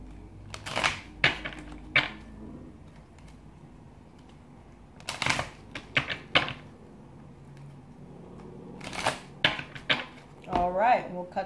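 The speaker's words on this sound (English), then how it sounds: "let's go ahead and shuffle these real quick." A deck of cards is shuffled in several quick riffling bursts separated by pauses, close and fairly quiet.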